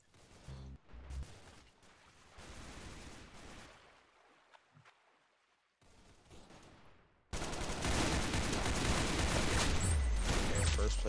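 Gunfire from the Roblox game Arsenal comes in rapid bursts and scattered shots, with an abrupt cut partway through, then a loud, dense fusillade to the end, no talking.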